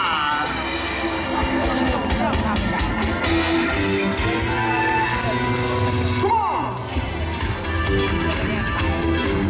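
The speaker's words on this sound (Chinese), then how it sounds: "掌声加尖叫！" Crowd at an outdoor band concert in a park cheering, yelling and whooping, a dense sustained roar of voices over music, loud and continuous throughout.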